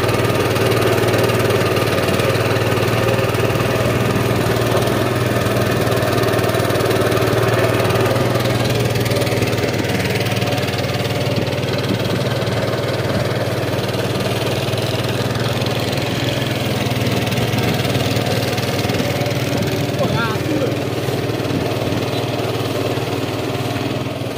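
Boat engine running on a river boat ride along the Maron river in Pacitan, East Java, a loud, steady droning putter heard close by throughout with no pauses or talk.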